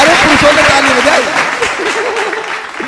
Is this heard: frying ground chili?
no